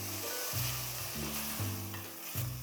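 Vegetables with soy sauce and ketchup sizzle steadily in a hot pan while being stirred for Manchow soup, with scraping strokes roughly every second over the constant frying hiss.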